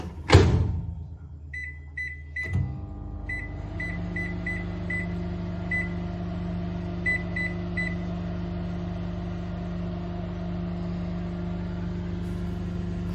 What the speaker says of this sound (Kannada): ಇದಕ್ಕೆ ಒಂದು ಬೆಳ್ಳುಳ್ಳಿ ಹಾಕಿ ಓವನಲ್ಲಿ ಇಟ್ಟು 1 ನಿಮಿಷ ಬಿಸಿ ಮಾಡಿ.